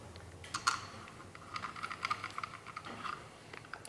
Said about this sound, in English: We're just going to go by feel here using this Motion Pro spinner T-handle.